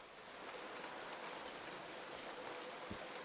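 Rain falls steadily in the video game I/O, a soft, even hiss of drops that runs quietly throughout with no talking over it.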